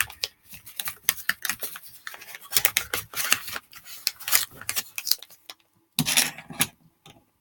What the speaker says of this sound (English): That is again a ring that has been snipped, symbolic of the wedding ring